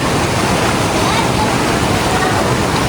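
Fast-flowing water rushes loudly and steadily near a temple, a dense continuous roar like a small waterfall or strong stream, filling the whole clip at close range.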